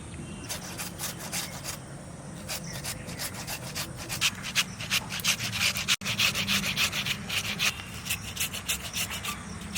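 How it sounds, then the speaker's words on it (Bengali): A potato grated by hand for a soya chunk kofta curry makes a rapid run of rhythmic rasping strokes, close and steady from start to finish. "আলুটা ঘষকে লব।"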